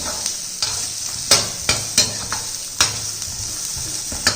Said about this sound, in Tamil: இது எல்லாத்தையும் நல்லா ஒரு வதக்கிடுவோம்.